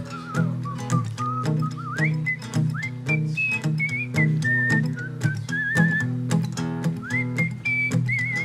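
A person whistles a lively, wandering melody, clear and close, over steady instrumental backing with sharp rhythmic hits and no speech.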